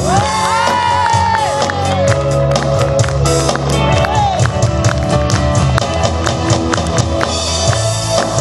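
A concert audience cheers and shouts for a band member over loud music still playing, the crowd noise and whoops mixing with the band's sound throughout.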